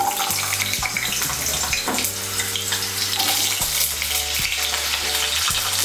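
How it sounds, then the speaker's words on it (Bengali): Chunks of potato and pointed gourd fry in white oil in a pan, a loud, close, continuous sizzle and hiss with occasional scraping and stirring knocks. "প্রথমে এর মধ্যে আমি আলু আর পটলগুলো ভেজে নেব"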